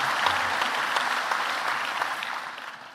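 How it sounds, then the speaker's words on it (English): A school crowd applauds sportsperson of the year finalists at a college sport awards night, a steady dense clapping from a large audience that carries on evenly before tapering slightly. "I think we can applaud here."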